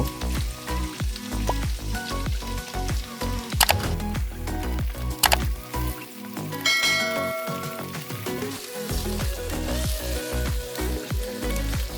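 Fried potatoes go into a pan of vegetables and drumsticks sizzling in oil for shukto, with a steady loud frying hiss and occasional spoon clinks while stirring, and no talking.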